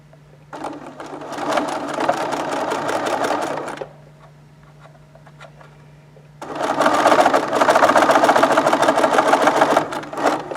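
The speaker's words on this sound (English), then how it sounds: "take it back to the sewing machine and sew the sides." A sewing machine stitches the sides of a folded fabric face mask in two long, loud, steady bursts of rapid needle chatter, separated by a few seconds of quiet low hum.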